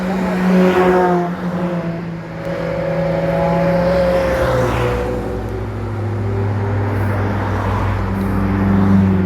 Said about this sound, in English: That's an RS6 non-hatch.